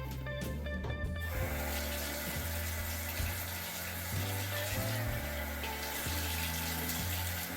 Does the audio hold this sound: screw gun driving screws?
no